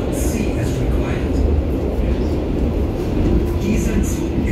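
Berlin U-Bahn U6 subway train, an H97 unit riding toward Alt-Mariendorf, a steady loud rumble and roar of the carriage in motion, with a voice announcement over it.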